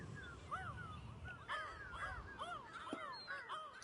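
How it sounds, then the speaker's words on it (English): Crows cawing repeatedly over a low rumbling ambient bed in the seaside video game Burly Men at Sea, several calls overlapping at moderate distance in a steady, uneven rhythm. "Birds."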